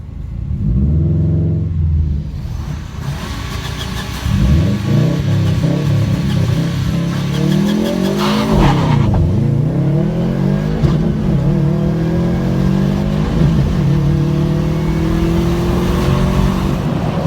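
A Subaru STI and a BMW M4 drag racing, engines loud and near, revving hard through rising gear pulls with shifts and rumbling exhaust throughout.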